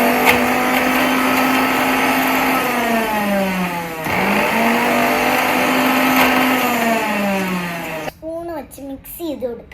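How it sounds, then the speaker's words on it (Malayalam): A mixer grinder whirs loudly and steadily while grinding chakli ingredients, its motor pitch dipping and rising in two long runs before it cuts off and a voice is heard. "നമുക്കൊന്ന് കുറച്ചും കൂടെ മിക്സിയിലിട്ട് അടിക്കാം"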